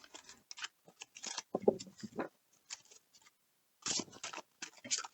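Transparent tarot cards being shuffled by hand, irregular bursts of crisp plastic-like flicking and light tapping, close up and fairly quiet with short pauses between clusters and no talking.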